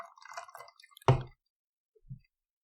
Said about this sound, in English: let me fucking pour it first